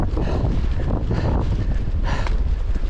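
Strong wind roars across a mountain summit on a thru-hike trail, buffeting the microphone with a dense, constant low rumble and gusty surges, loud and unbroken.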